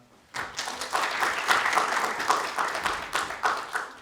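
An audience welcomes a speaker with applause that starts suddenly after a brief quiet, swelling into steady clapping with distinct individual claps and ebbing slightly toward the end.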